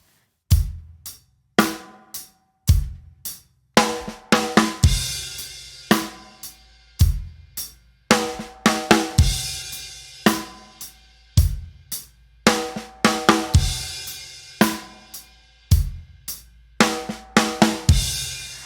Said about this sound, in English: we're gonna play our 4, E, and A drum fill on the snare